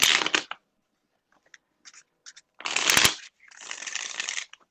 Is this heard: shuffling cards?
yes